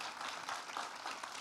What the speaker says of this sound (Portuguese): todo mundo aplaudindo essa equipe